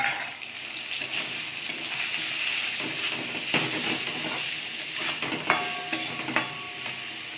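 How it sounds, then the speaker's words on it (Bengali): Potato and pointed gourd frying in oil in a pan while being stirred, with a steady sizzling hiss and occasional scraping clinks of a utensil, close and moderately loud, no talking. "আলু পটল একটু ভাজা ভাজা হয়ে গেছে"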